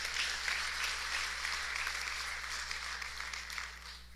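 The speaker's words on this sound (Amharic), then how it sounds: "ካጨበጨባችሁ በደንብ አጨብጭቡ" Congregation applauding during a church sermon in an Amharic-speaking service: a steady, dense wash of many hands clapping at once, filling the room at an even level throughout with no pause.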